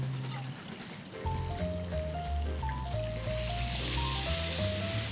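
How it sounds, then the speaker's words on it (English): Water is poured into a pan of black beans while homemade black bean sauce is made for a beef stir-fry. A soft, short trickle runs over music playing in the background. "Now we need some water in here."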